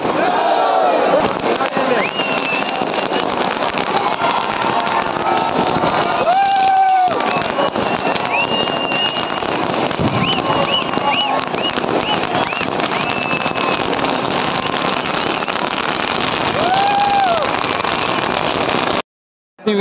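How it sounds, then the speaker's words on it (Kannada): Firecrackers burst and crackle continuously through a Ganesh festival procession in Shivamogga, with crowd noise and voices mixed under the dense, steady popping. "ಈಗಿದ್ದ ಪಟಾಕಿಗಳ ಹಾವಳಿ"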